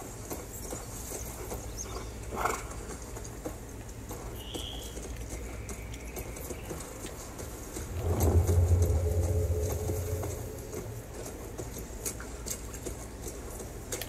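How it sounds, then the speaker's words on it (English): A horse gallops through water, its splashing hoofbeats running as a steady wash that swells louder for a couple of seconds midway before settling back, with no voices. "Listen to that water when the horse is galloping."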